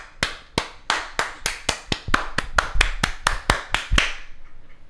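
About fifteen sharp, evenly spaced claps ring out one after another, close and distinct, in a slow steady rhythm that stops after four seconds.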